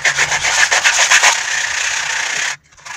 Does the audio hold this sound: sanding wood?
yes